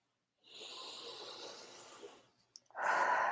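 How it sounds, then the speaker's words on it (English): A person takes a long, slow deep breath, a soft airy inhale-exhale lasting nearly two seconds, followed by a brief pause and another stronger rush of breath close to the microphone. "Big deep breath."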